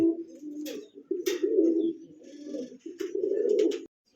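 Pigeons coo in low, throaty rolling phrases, several overlapping calls close by with brief pauses between bursts.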